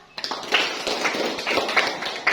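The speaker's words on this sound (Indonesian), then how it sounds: "Berikan dulu aplaus untuk teman kita Aisyah." A class applauds a classmate, a short burst of clapping from several people in a classroom, fairly close and steady for a couple of seconds.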